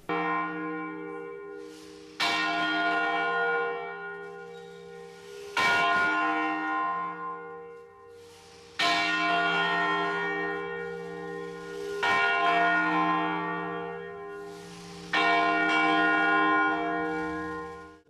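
Bronze church bell in a tower ringing loud and close, about six heavy strikes roughly every three seconds, each with a long humming resonance that overlaps the next.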